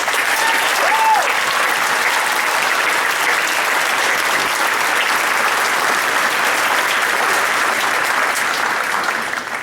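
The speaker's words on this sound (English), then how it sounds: "Please give them a round of applause." Audience applause for award winners at an 8th grade awards ceremony, loud continuous clapping from a crowd that holds steady for nearly ten seconds.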